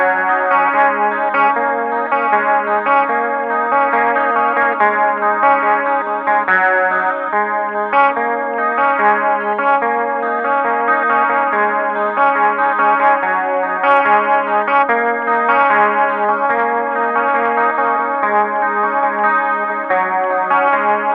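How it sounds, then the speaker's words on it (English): Electric guitar played through a chorus pedal with distortion switched off, ringing clean, shimmering chords and single notes continuously at steady loudness with no talking, from a lesson on a song. "So we turn off the distortion. We have the chorus pedal on"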